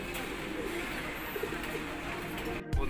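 A female local pigeon gives low, soft cooing calls close by against a quiet background hiss.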